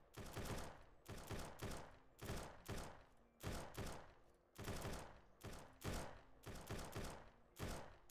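Gunfire in the video game SurrounDead, heard as a quiet, far-off series of sharp shots spaced in a steady rhythm, roughly a dozen reports over several seconds with no talking.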